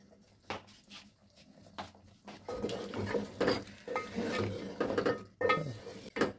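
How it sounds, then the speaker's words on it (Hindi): Tomatoes are stirred into beef nihari in a metal pot, the spoon scraping and clinking against the pot in irregular bursts, close and fairly soft, with no talking. "पहले हम टमाटर डाल के चलाएंगे इसको अच्छा सा।"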